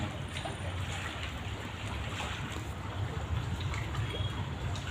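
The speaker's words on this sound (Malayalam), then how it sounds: "ഓളം തള്ളുന്ന സൗണ്ടാണ്" Water waves lapping and sloshing against a boat, a steady low churning wash with faint trickling, continuous and fairly close for the whole stretch.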